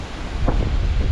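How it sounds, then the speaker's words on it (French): Wind buffeting a microphone while paragliding near a cliff in Morzine, a steady low rumble that swells into stronger gusts partway through, loud and close with no voices. "tu sens le vent"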